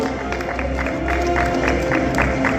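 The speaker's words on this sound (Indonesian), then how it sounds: "Kita berikan tepuk tangan untuk Kabupaten Manggarai Timur" Applause from an audience at a regional government award ceremony and planning meeting, a steady dense patter of clapping filling the hall throughout, without pause.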